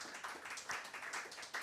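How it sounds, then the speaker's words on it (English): A jazz concert audience claps in a quiet, fairly distant spatter of applause that pulses unevenly over a short stretch, with no talk. "Please give him a round of applause."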